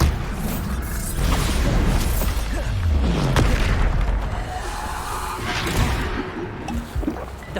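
A Bombarda spell blasting in Hogwarts Legacy, heavy booming explosions with crackling debris rolling over one another amid continuous loud game combat noise.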